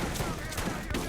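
Rapid gunfire in the shooter video game Borderlands, a dense burst of cracking shots over constant busy game noise, loud and continuous with no clear gaps.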